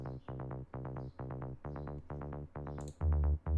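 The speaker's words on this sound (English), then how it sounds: "And we have a mid part which sounds like this." A buzzy mid-range bass from a Diva synthesizer plays a quick, choppy pattern of short repeated notes in tight rhythmic groups, steady and moderately loud.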